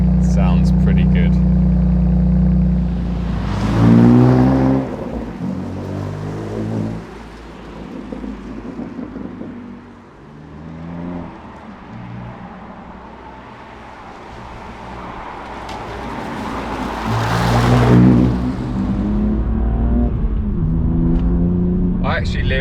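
A cold BMW M2 Competition with a Remus exhaust runs steadily at a raised idle of 2000 RPM, with a couple of louder surges, while someone talks over it throughout.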